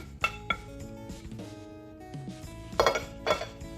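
Veggie burger ingredients, including a sautéed onion mixture, are mixed in a bowl with a utensil, producing scattered metallic clinks and taps, soft mushy scraping in between, and a louder cluster of knocks toward the end.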